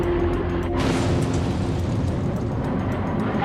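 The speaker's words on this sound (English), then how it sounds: "We have an explosion outside this building." Car bomb exploding outside the Russell Street police headquarters in Melbourne, a sudden heavy boom followed by a dense rumbling roar that holds loud for several seconds.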